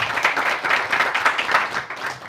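An audience breaks into loud, close applause for a speaker, a thick continuous patter of many hands clapping with small swells throughout.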